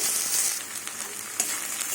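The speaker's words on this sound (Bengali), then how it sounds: "পেঁয়াজ সিম আলু দেখুন ভাজা হয়ে গেছে" Onion, flat beans and potatoes frying in oil in a pan, a continuous bright close sizzle with a few soft stirring scrapes.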